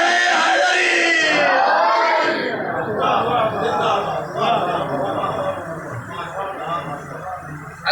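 A loud crowd shouts the Naara-e-Haidari slogan in unison, a dense roaring chorus that fills the whole stretch and swells at the start before settling into sustained massed voices.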